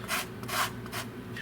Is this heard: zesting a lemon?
yes